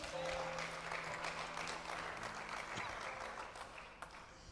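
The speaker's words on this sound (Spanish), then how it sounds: "Denle un aplauso a Jesús." A church congregation applauds during a sermon, with dense, steady clapping that fills the whole stretch at moderate loudness and voices mixed in underneath.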